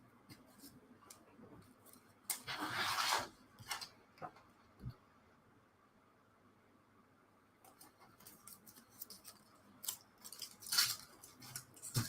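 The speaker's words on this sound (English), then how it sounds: "Cut around the edges of this." Scissors cut around the edges of a craft piece for a DIY subscriber counter and clock, giving close, quiet snipping in bursts of rapid crisp cuts separated by pauses of near silence.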